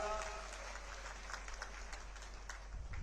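A crowd at a public political rally in Rewa, Madhya Pradesh, applauds J.P. Nadda, a sustained wash of clapping heard from a distance that holds steady for the whole stretch with no voices rising above it.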